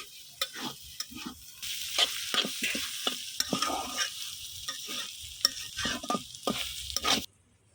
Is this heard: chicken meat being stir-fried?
yes